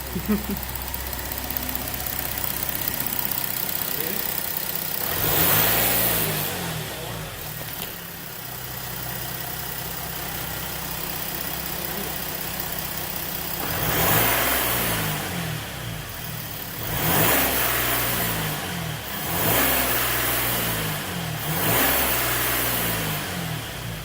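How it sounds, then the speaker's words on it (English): A 3.0-litre Audi A5 engine idles after an intake manifold clean, then revs in several separate bursts, rising and falling each time, with a couple of quick blips close together near the end. "when you give it a rev, you'll see, give it a rev"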